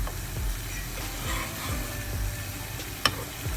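Eggplant and mango pieces for a spicy dried anchovy theeyal sizzle quietly in oil as they are turned in a pan, giving a steady soft fry with light stirring scrapes and one sharp click.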